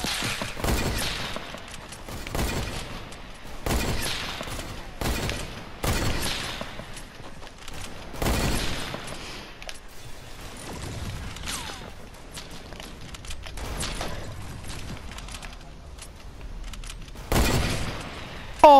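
Sniper rifle shots ring out in the video game Fortnite as a series of sharp, loud cracks spaced a few seconds apart over a low background of game noise.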